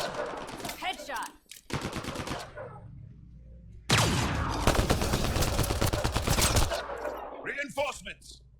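Rapid automatic gunfire in the video game Mass Effect: Andromeda, a short burst followed by a longer sustained stream of loud shots, with game voices in between.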